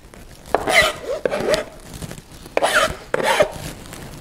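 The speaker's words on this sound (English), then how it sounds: "We're probably going to use this bunch. And we're going to chop this up." A bunch of fresh herbs is chopped finely on a cutting board for guacamole salad, with quick rhythmic knife strokes in short bursts separated by brief pauses, close and clear.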